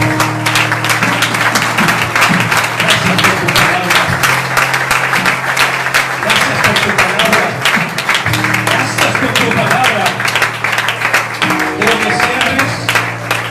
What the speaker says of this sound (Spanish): Yo quiero que le demos un aplauso al Señor por su palabra